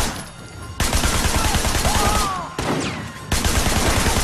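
Shotgun blasts and other gunfire erupt in a shootout in the video game Sleeping Dogs, a loud dense volley of rapid shots with short breaks, and no one speaks.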